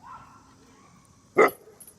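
A single loud, deep bark from a Kangal shepherd dog rings out once against a quiet background, followed by faint rustling.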